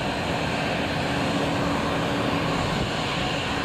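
A Boeing 777X arriving at King County International Airport, Boeing Field, gives a loud, steady, broadband engine roar that stays constant and unbroken throughout.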